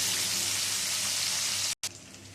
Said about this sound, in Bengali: লবণ আর হলুদ গুঁড়ো দিয়ে গাঠিটা ভেজে নিই